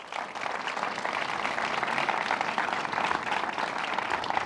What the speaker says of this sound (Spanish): Recibamos con un aplauso a Leonel.